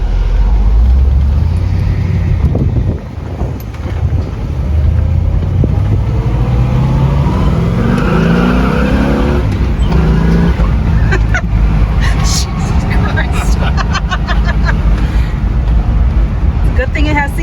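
A 1971 Buick GS Stage 1 convertible with a four-speed rumbles steadily while driving, loud and close, its engine note rising and falling, with people talking over it.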